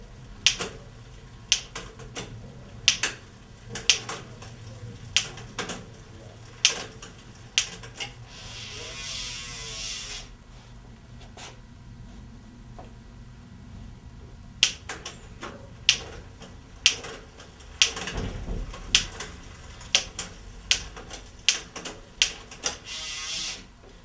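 Sharp, dry clicks from a bicycle rear derailleur as it shifts through the gears during adjustment, spaced irregularly and close by, with a steadier whirring patch partway through.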